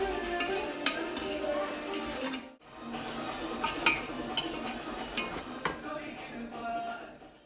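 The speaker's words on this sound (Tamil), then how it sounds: "கொஞ்சமாக ஆயில், ஆனியன், பட்டை, கிராம்பு, ஏலக்காய், பே லீவ்ஸ் அதெல்லாம் போட்டு லாஸ்ட்டில் நம்ம அரிஞ்சு வச்ச ஆனியன்ஸ் எல்லாத்தையும் நம்ம க்ரன்ச் பண்ணி போட்டாச்சு" Onions frying in a little oil with cinnamon, cloves, cardamom and bay leaves in a pressure cooker, a steady close sizzle with scraping stirs and light utensil clicks running throughout.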